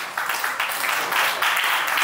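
Guests applaud in a hall at a traditional wedding ceremony, a dense steady patter of clapping from many hands, fairly loud and continuous.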